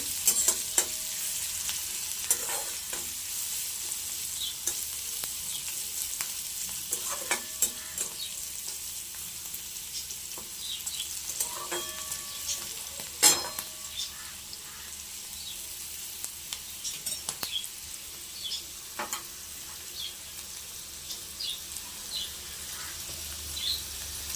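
Flattened rice poha stirred with salt in a pan, a soft, quiet sizzle under scattered scrapes and taps of the spatula, close and with no one speaking.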